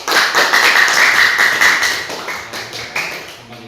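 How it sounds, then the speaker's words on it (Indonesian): Classroom applause for a student group: a burst of clapping from many hands that starts loud and tapers off into scattered claps. "kita berikan kepada kelompok 1 aplaus"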